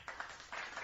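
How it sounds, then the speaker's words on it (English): A short applause sound effect played on a wrestling podcast, a brief patter of clapping under a second long, thin and slightly muffled, with no voices over it. "Where's the applause sound effect?"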